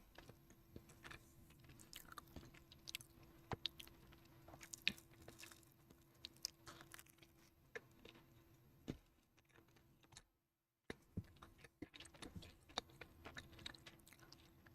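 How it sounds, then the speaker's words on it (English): Quiet, close chewing: a person munches on food with steady crunchy bites and small mouth clicks repeating over a soft hiss, with a brief silent gap partway through. "I'm like munching on my food and there's no background music"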